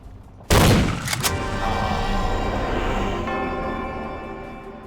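A loud, close shotgun blast in the video game Vampire: The Masquerade – Bloodlines, with quick follow-up cracks and a long ringing decay that fades slowly.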